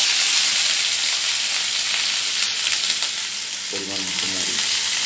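Onion paste fries in hot oil with a loud, steady sizzle and hiss, close up, and a brief voice speaks near the end.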